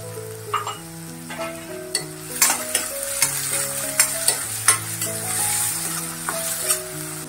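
Onion cooks with a pinch of salt in a pan while kurdu wild-greens bhaji is being made, a steady sizzle with a spoon stirring and clinking against the pan and background music playing along.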